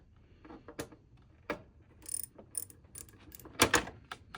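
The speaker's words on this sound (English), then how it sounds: "we're going to come back with our ratcheting screwdriver" Ratcheting screwdriver tightening a screw on a Primo water cooler, giving sparse, close clicky ratchet bursts at irregular intervals with quiet pauses between them.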